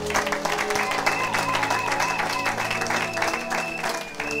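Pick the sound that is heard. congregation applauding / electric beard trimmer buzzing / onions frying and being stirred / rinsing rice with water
congregation applauding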